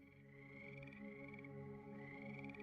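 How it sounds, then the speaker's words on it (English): Frogs croak in a steady, continuous chorus of overlapping calls, fairly loud and unbroken throughout, with no voices. "If you hear frogs"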